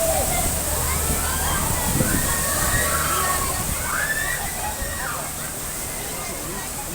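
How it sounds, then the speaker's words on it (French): Artificial waves slosh and splash against a tour boat on the Seine in Paris, a steady watery wash with a few louder surges, while people talk over it. "On peut dire que ces vagues sont artificielles."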